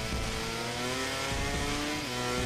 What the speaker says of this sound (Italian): Sta per arrivare la MotoGP all'ultima staccata,